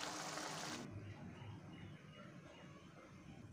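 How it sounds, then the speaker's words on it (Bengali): Water pours in a brief, hissing rush into a pot of pangas fish curry with potatoes, then cuts off, leaving faint quiet bubbling and clinking. "এর মধ্যে আরেকটু জল দিতে হবে, আমি এরপর জল দিয়ে দেব"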